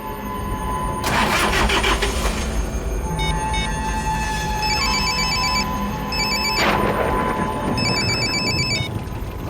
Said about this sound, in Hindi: रमेश फोन क्यों नहीं उठा रहा?